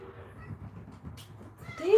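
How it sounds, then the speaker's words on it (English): Little kittens meow near the end, a short rising cry standing out over steady indoor background noise and faint murmuring, with a soft squeak earlier. "These damn little kittens is going crazy."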